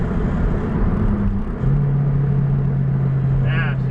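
A turbocharged EP3 car pulls hard on a highway in fourth gear with its wheels spinning, a steady loud engine drone rising in pitch, with excited voices over it.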